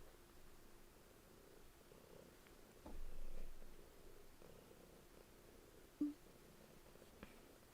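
A house cat purrs softly and steadily, close but faint, with a low rumbling swell and a small knock partway through.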